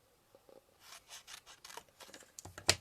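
Scissors cutting card stock for handmade card making, with a short series of close, soft snipping and rubbing strokes that ends in one sharp click.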